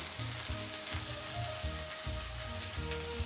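Broccoli rabe and garlic sizzle in smoking-hot avocado oil in a pan, a steady close crackling hiss with low clanks of the pan or utensil recurring every second or so.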